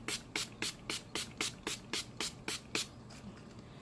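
A bottle of makeup setting spray is pumped about a dozen times in an even, quick rhythm, each short airy hiss of mist close and clear with no voice over it.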